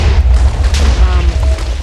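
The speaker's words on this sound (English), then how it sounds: "when it explodes, it'll just shoot a bunch of other TNT, catch it on fire, and blow all that TNT up" Compact TNT in the Minecraft video game sets off a chain of further TNT, giving a loud, rumbling, sustained booming blast that fills the whole moment.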